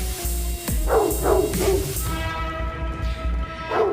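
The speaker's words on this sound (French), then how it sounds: "C'est un chien, ça." A dog barks several times in quick bursts, fairly close, followed by a softer whimpering yip near the end.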